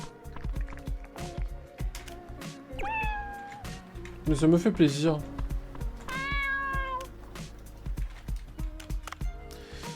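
An in-game cat in Dave the Diver gives several clear, rising meows and a drawn-out yowl, standing out over a gentle game soundtrack while someone speaks French nearby.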